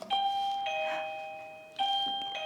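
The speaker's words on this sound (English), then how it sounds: "And then the bell" A classroom bell, a two-tone electronic ding-dong chime, sounds twice with a long ringing decay after each strike, clear and alone with no talking.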